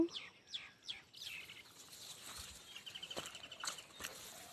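A bird gives several faint chirps and calls in a wheat field on a farm, scattered and distant over quiet outdoor background with light rustling.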